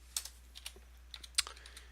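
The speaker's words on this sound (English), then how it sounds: "Then what I'm going to do is I'm going to type in," Scattered keystrokes on a computer keyboard, a dozen or so light clicks in an uneven rhythm with one sharper tap near the middle, close and fairly quiet over a faint steady hum.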